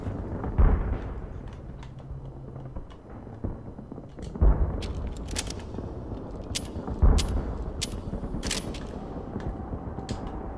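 Gunshots in the game Call of Duty 3: three heavy, booming shots spaced a few seconds apart, each followed by crackling clicks and rattles, over steady low battlefield ambience.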